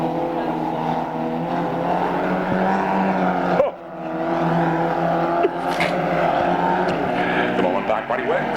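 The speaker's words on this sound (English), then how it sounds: "Our 5 cars going racing down the main straight" Race cars roar down the main straight at Archerfield Speedway, a loud sustained engine howl that swells and dips as they pass, with a commentator's voice running over the noise.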